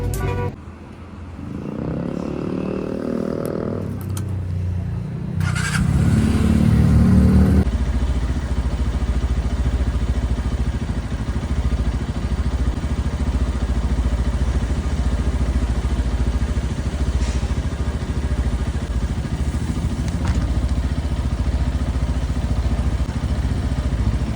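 Steady engine drone and road rumble from a 125cc motorcycle riding at night, loud and continuous after a brief quieter start, with wind noise throughout.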